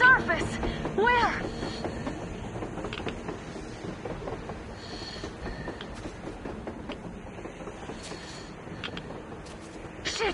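A train rumbles past on the surface in a post-apocalyptic video game, with a continuous clattering rolling noise that starts loud and slowly fades, while voices talk over it.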